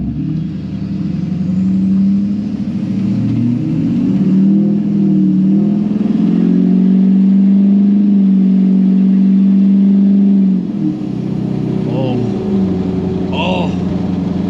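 A Chevrolet LBZ Duramax diesel pickup with 206,000 miles, at full operating temperature, revs hard and holds a loud, sustained drone before dropping back, recorded close with someone talking over it.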